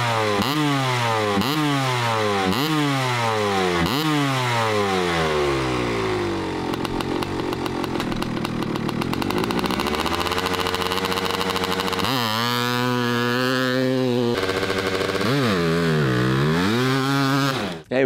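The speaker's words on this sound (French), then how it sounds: "Alors, on démarre cette moto, Pierrick," A 1992 Kawasaki 250 KX-E two-stroke enduro motorcycle fires up and runs close by, loud throttle blips rising and falling, settling into a buzzing idle, then revving hard again, with no talk over it.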